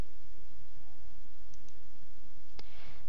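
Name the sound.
mouse clicks in PowerPoint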